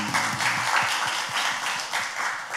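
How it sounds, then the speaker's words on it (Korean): Church congregation applauding together in a sustained, dense wash of clapping that fills the space, steady and fairly close throughout. "우리 살아계신 하나님께 감사와 찬양과 영광의 박수 올려드리겠습니다."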